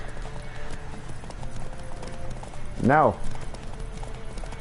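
Horse in The Witcher 3 video game with a steady clip-clop of hooves throughout, a loud whinny near the middle, and someone talking briefly over it.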